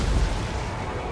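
Rocket impact in a Total War: Warhammer II quick battle against the Goblin King: a single deep, loud boom rolling into broad rumbling noise, lingering for about a second with no voices.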